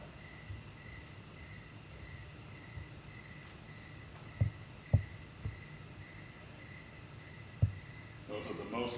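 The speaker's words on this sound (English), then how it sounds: "Those are the most monotonous fucking crickets I ever heard in my life" Crickets chirp in a monotonous steady drone, faint and continuous through the quiet background, with a few soft knocks and thumps.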